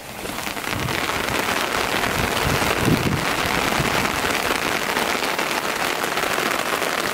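Rain falling steadily outdoors near a van, a dense constant patter with a faint low rumble, loud and even throughout with no talking.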